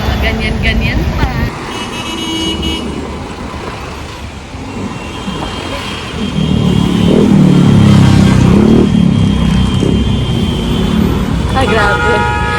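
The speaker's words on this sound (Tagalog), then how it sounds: "Ang bilis ng sasakyan. Ang bilis talaga ng takbo nila." Cars and buses rush past on a busy road on a holiday, a loud steady wash of traffic that swells as a heavy vehicle passes mid-way, with horn toots and a distant siren, and voices talking over it.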